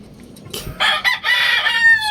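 Gamefowl rooster crowing loudly and close, one drawn-out strained crow following a short cluck, with faint farmyard background and no talk.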